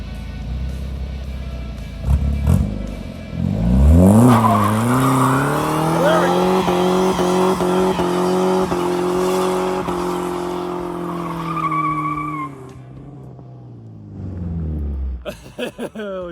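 A straight-piped Dodge Dakota truck does a burnout on a dusty private lot, its engine roaring loudly and steadily with rising revs and screeching, spinning tires for over ten seconds before dropping off, with people talking around it.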